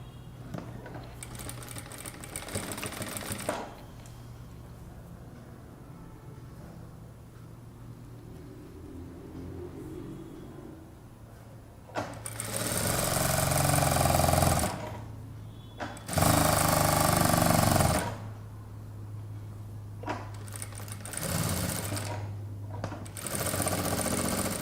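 A sewing machine stitches piping along the edge of a princess cut kurta bottom, running in several loud bursts of rapid whirring separated by quieter pauses with a steady low motor hum underneath.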